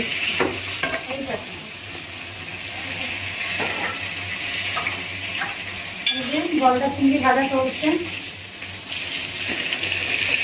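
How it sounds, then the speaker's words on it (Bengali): Large prawns fry in a pan with a steady crackling sizzle, interrupted by scraping and clattering stirring near the middle, close and loud with no voices. "চিংড়ি ভাজলে চিংড়িগুলো গুটিয়ে একটুখানি হয়ে যাবে"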